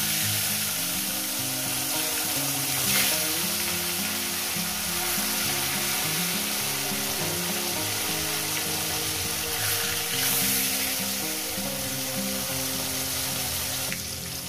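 Pieces of bhola fish frying in mustard oil in a pan give a loud, steady, crackling sizzle that runs throughout, with occasional small pops and no talking.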